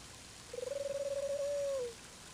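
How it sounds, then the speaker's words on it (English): A single pigeon in the video game Mother 3 coos once, a soft, rolling call lasting over a second, close by against a quiet background. "Pigeons here."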